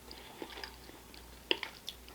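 Close chewing during a mukbang meal of Chinese beef and broccoli or Cheetos, with soft wet mouth sounds and a few sharper crunchy bites standing out, quiet and without talk.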